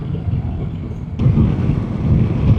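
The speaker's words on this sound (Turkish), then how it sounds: "Rüzgar ciddi oranda arttı" Strong wind buffets the microphone of a motorcycle rider on the road in a loud, continuous roar that grows rougher partway through.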